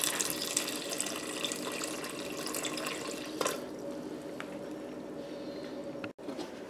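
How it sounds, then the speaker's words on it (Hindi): A rushing stream of water pours steadily into a pressure cooker of beets, loud at first and then softening, ending with a brief clunk. "और इसमें पानी डाल देंगे"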